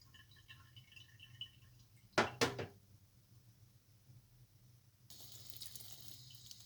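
Brief splashes of tap water near a sink as seeds are rinsed in lukewarm water, two short bursts followed by a steadier hiss of running water, with no talking.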